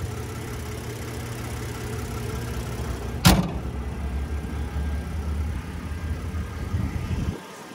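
A 2022 Nissan Frontier's 3.8 liter naturally aspirated V6 idles steadily with a low hum, broken by one sharp knock partway through before the running stops near the end.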